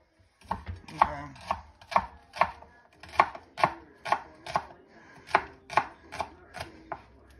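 A knife slices shallots into thin slices on a cutting board, a steady run of about fifteen crisp, close chops at an even rhythm, with no talking.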